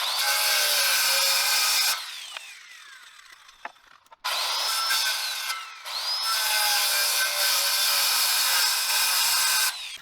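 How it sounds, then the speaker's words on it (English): A power tool whines loudly through a wooden board being cut for a climbing wall, two long sustained cutting passes separated by a quieter gap with faint handling knocks, close and with no talk. "I think I'm going to cut the board first."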